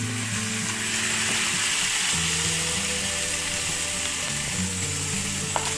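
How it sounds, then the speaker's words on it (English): Tomatoes sizzling and frying in a hot pan for Saudi Arabian macaroni, a steady loud crackling hiss that continues throughout with faint stirring underneath and no voices. "Next, we're going to add the tomatoes."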